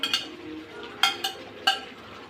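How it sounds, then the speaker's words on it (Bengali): Chicken frying in a pan with chili powder for chicken dahi biryani, a steady low sizzle broken by four sharp metallic clinks of a utensil stirring against the pan. "এই জন্য আমি একটু গুঁড়া মরিচ দিয়ে আপনার সুন্দরভাবে ভেজে নিচ্ছি"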